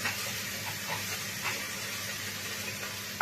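Continuous hissing sizzle of small diced potatoes frying in a pan for lentil soup, close by, with a few brief louder crackles and no talk.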